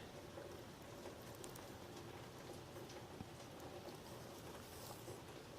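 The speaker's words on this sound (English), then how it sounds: "That rain is nice and soothing." Steady rain falls, a soft, even hiss of drops that is faint and continuous, with no voices over it.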